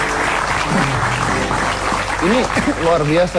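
A studio audience at a television talk show breaks into applause, a broad steady clatter of clapping under someone speaking loudly.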